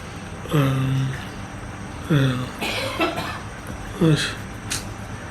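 Three separate coughs, close and fairly loud, spaced a couple of seconds apart, with some faint background noise between them.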